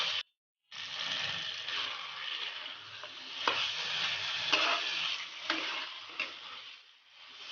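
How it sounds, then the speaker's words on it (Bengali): Chicken cooked with spices in a pan for a winter vegetable curry, a continuous bright sizzle with scraping, clicking stirring strokes, close and moderately quiet, starting after a brief silent gap. "এবার মিনিট 5 সময় ধরে মাংসটা ভালো করে কষে নেব।"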